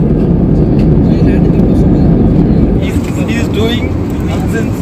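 An airplane landing at Varanasi gives a loud, steady, close cabin roar of engine and air noise, with a voice talking over it.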